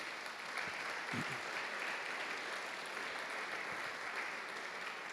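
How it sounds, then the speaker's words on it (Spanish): A church congregation applauds in praise, a steady, even wash of clapping heard from a distance at fairly low level, with little else over it. "Démosle un aplauso al Señor, hermanos"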